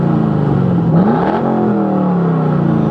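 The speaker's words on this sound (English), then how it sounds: "Just listen to that LS3." A 2010 Chevrolet Camaro SS with an LS3 V8 revs up and settles, its deep rumbling pitch rising and falling, close and without talk.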